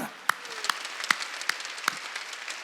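A church congregation claps in thanks during a New Year's Eve worship service, with sharp, evenly spaced claps in a steady rhythm over a soft room background.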